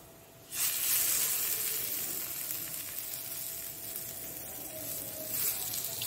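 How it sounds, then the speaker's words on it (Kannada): Lady fish coated in rava shallow frying in hot oil, a steady loud sizzle that bursts in suddenly and then hisses continuously, close up with no talking. "ಹದಾ ಎಣ್ಣೆಯಲ್ಲಿ ಶಾಲೋ ಫ್ರೈ ಮಾಡುವ"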